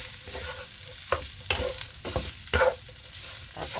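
Leftover rice frying in a pan with garlic, onion and salt, a steady sizzle broken by several sharp scrapes and clinks of a utensil stirring at close range, no voices.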